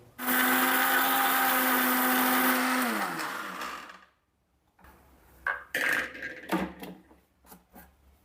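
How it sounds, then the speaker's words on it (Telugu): A mixer grinder powders rock salt and spices, first a loud, high motor whine that winds down over a few seconds, then silence, then rattling and knocking as the jar is handled. "ఇప్పుడు మెత్తగా గ్రైండ్ చేసుకుందాం."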